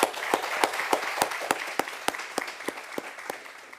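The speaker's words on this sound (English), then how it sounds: "Musa Buthelezi, let's give him a round of applause." An audience at a book launch event applauds with sparse, rhythmic claps that stay moderately loud and steady, with no talk over them.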